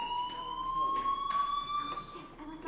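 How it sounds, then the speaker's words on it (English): A school fire alarm in the video game Life is Strange: Remastered rings as a steady high electronic tone, moderately loud and sustained, with faint background voices beneath it. "do you hear that fire alarm? That means you should be outside."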